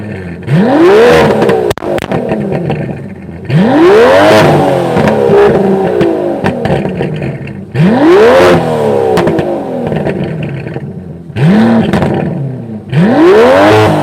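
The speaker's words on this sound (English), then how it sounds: "Oh yeah, so I'm going to now rev it." A 2020 Aston Martin DBS Superleggera Volante engine revs up hard four times, each rising roar peaking and falling back between bursts, loud and close with no talking.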